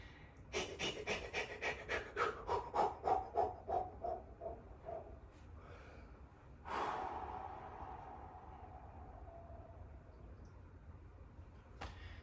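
A rapid series of short, breathy puffs gradually fades, then one long, steady exhale trails off into quiet.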